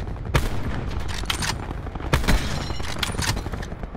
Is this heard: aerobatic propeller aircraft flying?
no